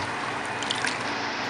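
Clean water runs and splashes steadily as a homemade DIY foot spa is rinsed, forming a close, continuous trickling wash without speech.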